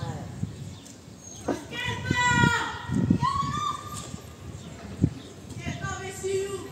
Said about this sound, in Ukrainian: Албанська молодь дуже експресивно